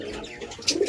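Pet pigeons in a backyard colony coo softly nearby, with a brighter chirp and a louder coo toward the end over light ambient noise.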